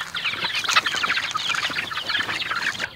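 A dense flock of about forty meat chickens crowded in a chicken tractor on a farm clucks and chatters continuously, a busy, close, overlapping din with no talking.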